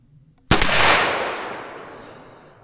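A single .357 Magnum gunshot, one sharp loud crack followed by a long decaying echo that fades over about two seconds.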